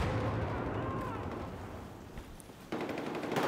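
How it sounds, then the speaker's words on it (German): A grenade explosion in Battlefield 4 on a debris-strewn battlefield, heard as a muffled booming burst followed by rumbling gunfire, fairly quiet overall with a sharp crack near the end. "Wir werfen mal random eine Granate rein."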